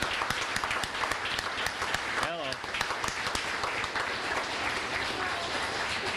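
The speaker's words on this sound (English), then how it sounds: "big round of applause" Applause at a high school sports banquet, sharp individual claps standing out over a steady crowd of clapping, close and lively, with a brief vocal whoop and some murmured voices mixed in.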